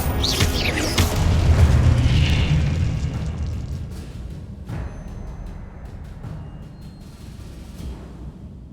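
A Confringo spell explosion in Hogwarts Legacy erupts with a deep, booming burst that swells and rolls for a couple of seconds, then fades into a rumbling, crackling tail with a sharper pop midway, with no talking.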